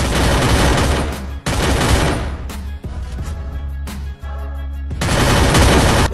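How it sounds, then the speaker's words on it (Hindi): Rapid automatic gunfire from CG-15 and MP5 guns in the video game Free Fire, dense sustained bursts with brief gaps, loud and close, with no talking. "CG-15 और MP5 गन का साउंड एक जैसा होता है"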